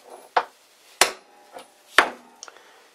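A hammer strikes a metal backing plate in the shop, landing about four separate sharp blows roughly half a second apart, close and loud, each ringing briefly before fading.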